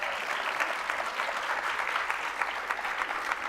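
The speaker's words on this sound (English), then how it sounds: "Just one more round of applause." Applause fills a church service, a steady full round of clapping from the congregation, fairly loud and unbroken throughout.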